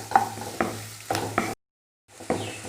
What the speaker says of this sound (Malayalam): ഇതെല്ലാം കൂടെ അത്യാവശ്യം നന്നായിട്ട് വഴന്ന് കിട്ടിയിട്ടുണ്ട്